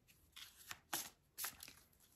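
Oracle cards shuffled by hand in a quiet room, a few soft papery riffles and slaps in quick bursts, faint and close.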